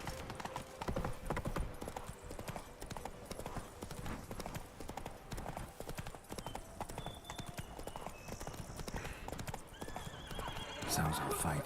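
Roach the horse in The Witcher 3 gallops with steady, rapid hoofbeats and neighs, loud and close, while talk runs over the top through most of the stretch.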